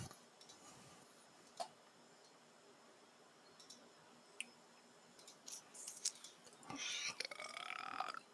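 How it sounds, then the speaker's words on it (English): A belch erupts in a quiet room after scattered faint ticks and clicks, rising into a louder, rough, drawn-out burst near the end. "I thought I heard a disgusting belch"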